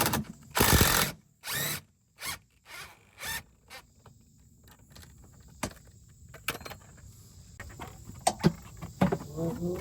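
Ratchet on an extension tightening a 10 mm bolt on a 10th-gen Civic Si during a cold air intake install: quick bursts of clicking, then sparser metallic clicks and clanks at close range.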